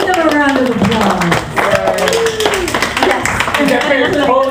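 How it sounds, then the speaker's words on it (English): Scattered clapping from a convention audience during anime-fan question time, loud and mixed with overlapping chatter and voices throughout. "Everybody give them a round of applause."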